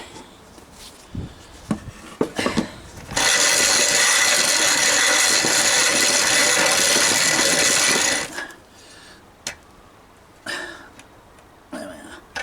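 A hand-cranked mill grinds flour in one loud, steady five-second burst of gritty churning, framed by scattered knocks and clunks from handling the machine.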